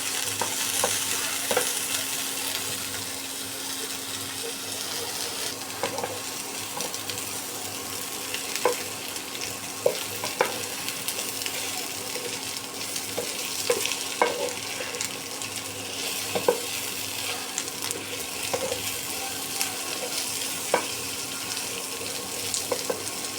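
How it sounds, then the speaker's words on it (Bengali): Garlic fries in a pan for a beetroot mash and is stirred, making a steady low sizzle broken by repeated scraping taps of a utensil over about twenty seconds. "এখন একটু এটা ভেজে নিতে হবে এক সাইড করে আর কি ভেজে নিই"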